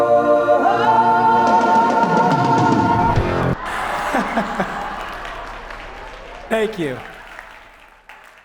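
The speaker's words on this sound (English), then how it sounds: "I think that's more applause than I got on the day of" Audience applause with whoops and cheers at a leadership keynote, rising under the tail of sung music and continuing as a voice speaks over the fading crowd noise.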